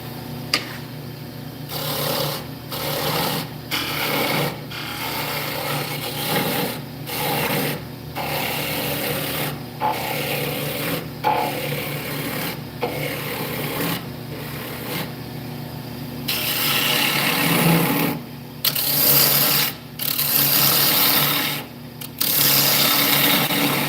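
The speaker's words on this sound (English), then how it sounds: "I did sharpen my bowl gouge pretty good, but this is cutting so easy" A sharp bowl gouge cuts wood on a lathe, a steady rasping scrape repeated in rhythmic passes with brief pauses between, close and loud, growing brighter toward the end.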